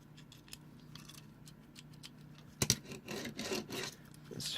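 A toy model car's wheel rubs as it turns, giving quiet scratchy friction with a louder rasping burst partway through, heard close up.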